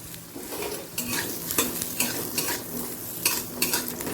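Peeled raw tamarind hits hot tempering oil over a low gas flame, sizzling steadily while a utensil stirs and scrapes the pan in repeated rhythmic strokes.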